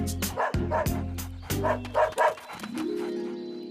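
A dog barks close by in a quick series of sharp, excited barks, ending with a drawn-out whiny tone.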